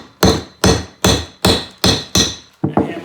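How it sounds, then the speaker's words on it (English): Seven sharp, loud metal hammer blows in a steady rhythm close by, striking wire shut on a homemade game carrier for a trapline, the last two quicker. "And hammer it shut."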